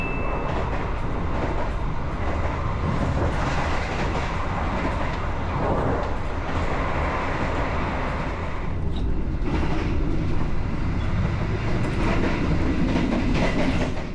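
Steady rumble and rhythmic wheel clatter inside a luxury-class coach on the Jakarta to Yogyakarta train, heard from the passenger cabin as it runs along, a constant moderate drone with faint clicks and no talking.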